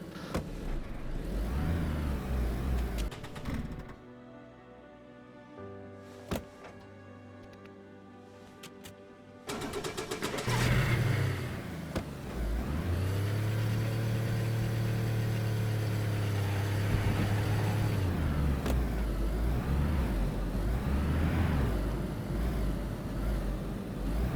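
Car engine running and revving in the DayZ video game on PS5, a loud steady motor drone with rising and falling pitch across most of the stretch, briefly dropping to a quieter idle before surging again.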